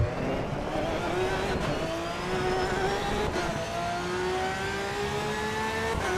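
A race car engine in a racing video game revs high and climbs steadily in pitch with brief gear-change dips, loud and continuous with no voices.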